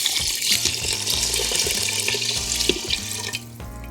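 Water streams steadily into an Instant Pot holding rice, a continuous close, bright splashing pour that holds at an even level before tapering slightly near the end.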